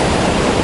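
Rough December sea surf breaking on a beach near concrete breakwaters, heard as a loud, dense, continuous wash of noise with no break.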